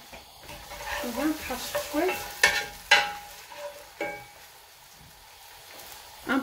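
Onions sizzling in olive oil in a pan, crackling steadily while a spoon clatters and scrapes against the pan in several sharp knocks.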